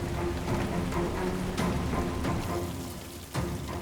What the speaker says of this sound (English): At the end of May, the expected rains arrived, and then some.